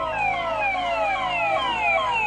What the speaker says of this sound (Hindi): देख पुलिस की गाड़ी आ रही है